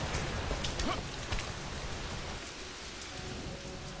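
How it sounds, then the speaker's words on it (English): Steady rain falling in the video game Lara Croft and the Temple of Osiris, a soft continuous hiss of drops with faint rumbling underneath, moderately loud and unbroken throughout. "Ooh, rain."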